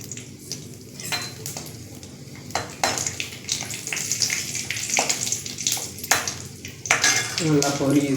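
Onions sizzle in hot oil in a pan while a spoon scrapes and stirs them, producing steady crackling frying noise broken by repeated sharp clatters of utensil against the pan.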